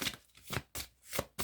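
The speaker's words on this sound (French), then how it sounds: "Allez, je vais prendre 3 cartes réponses" Tarot cards being shuffled and drawn, quiet close riffles and snaps coming in about four short bursts with brief pauses between them.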